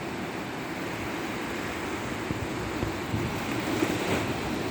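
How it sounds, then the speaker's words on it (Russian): Black Sea waves washing onto the shore at Anapa, a steady broadband roar with gentle surges and some wind, no voices. "Шумели волны в Черном море."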